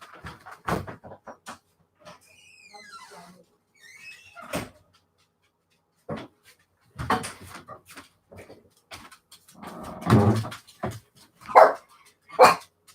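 A pet dog named Mark barks indoors in scattered bursts, with quiet gaps between them. The barks grow louder and more clustered toward the end, and a door or cupboard knocks once along the way.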